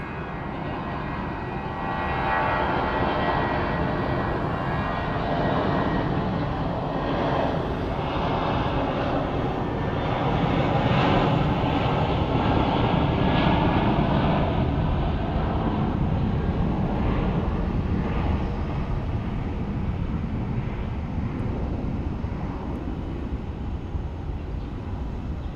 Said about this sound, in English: Oh my God, the banana plane is here,